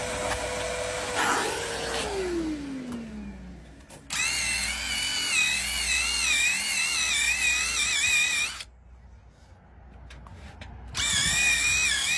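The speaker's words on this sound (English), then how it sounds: "We're now using the drill brush to make the fibres of the carpet all face the same way" A power drill with a brush attachment whirs with a fluctuating pitch, scrubbing a car carpet mat steadily, stops for a couple of seconds, then starts up again; a motor drone winds down near the start.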